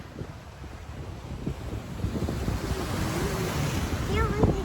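Waves roll onto a rocky sea shore with a steady wash that builds toward the end, under gusty wind noise, and a faint voice comes in briefly.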